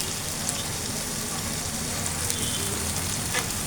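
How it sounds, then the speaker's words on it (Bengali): Stuffed spiny gourd fries lightly in a little oil, a constant soft crackling sizzle close by with a few faint ticks and pops. "এটা আমি হালকা একটু তেলের উপর ভেজে নিব"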